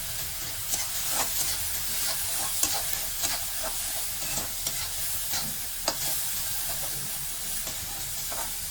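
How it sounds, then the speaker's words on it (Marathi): Sliced onions fry in a pan over a low-to-medium gas flame, giving a steady close sizzle and hiss broken by repeated scraping stirs that leave brief clinks. "गॅसचा फ्लेम आपण लो टू मीडियम करूया आणि चांगलं असं परतून घेऊया"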